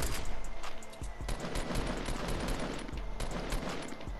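Rapid, loud bursts of gunfire from Fortnite fill the moment, continuous automatic shots with a few sharper cracks standing out, no talk over them.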